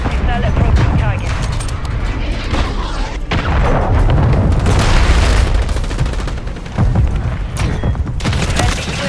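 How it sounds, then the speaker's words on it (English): Cruise missile strikes land in Call of Duty Modern Warfare 3 multiplayer, producing loud, dense booms and rumbling blasts mixed with gunfire over several seconds, with game voice callouts in between. "Friendly cruise missile approaching target."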